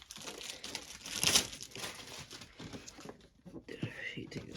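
Plastic wrapping is torn off a 2021-22 Upper Deck Series 1 hockey card tin, making close crinkling and crackling bursts that peak early on, with faint voices underneath.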